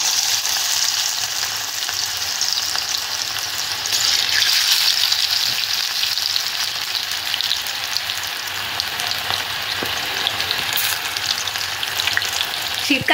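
Onion fritters (peyaji) frying in hot oil in a home kitchen, a dense continuous sizzle and bubbling crackle that stays loud and close throughout, with occasional stirring and no speech.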